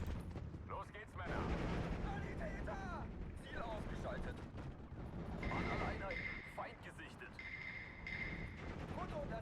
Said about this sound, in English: MG still doing good work.